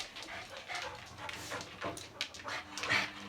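A dog pants and whimpers in soft, irregular bursts during play with a larger dog, fairly close and fairly quiet, with scattered small yips and rustling and no talk.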